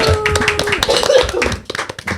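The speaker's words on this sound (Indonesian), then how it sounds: "boleh tepuk tangan dulu untuk kita semua dong" People in a seminar audience clap their hands together, brisk scattered claps close by, mixed with voices talking and a few brief tones.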